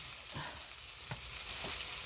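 Cut potatoes sizzling and frying in a pan at a cottage kitchen, a steady crackling hiss with a few soft stirring scrapes over about two seconds, close and moderately loud, with no talking.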